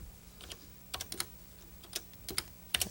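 Scattered keystrokes on a computer keyboard in a 1984 classroom setting, faint irregular clicks in small clusters with quiet gaps over low background hum.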